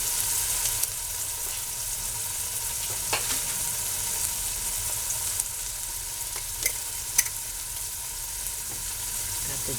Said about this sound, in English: first we're going to start out by browning our hamburger